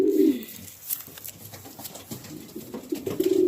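A dove coos in low, soft phrases at the start and end, close by, with faint rustling between.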